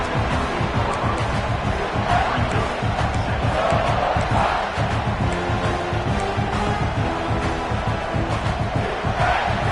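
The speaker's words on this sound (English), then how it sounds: "This crowd bringing the energy and noise early." A dense, roaring stadium crowd in a college football video game cheers steadily throughout, loud and continuous with rising swells of noise, no clear talk above it.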